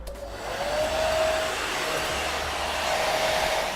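A hair dryer fitted with a deep conditioning attachment blows in a loud, steady whoosh close by, starting abruptly and holding an even drone with a faint whine throughout, with no talking.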